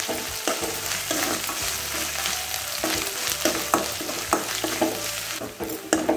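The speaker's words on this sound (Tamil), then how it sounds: "இப்போ வெங்காயம் இஞ்சி பூண்டெல்லாம் நல்லா வதங்கிருச்சு." Onion, ginger and garlic sautéed in a pan for a potato kurma, with a constant frying sizzle punctuated by frequent rhythmic spatula scrapes and knocks, close and steady with no talking.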